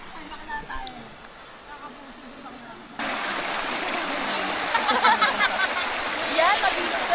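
River water rushing steadily while people bathe in it, the flow growing louder partway through, with people talking and calling out over the water.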